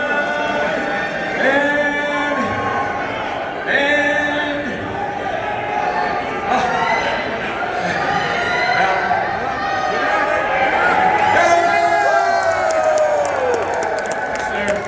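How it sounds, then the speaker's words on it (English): A large crowd at a fishing event cheers and chatters continuously, with excited voices rising and falling and some clapping mixed in throughout. "And the crowd going wild, ladies and gentlemen."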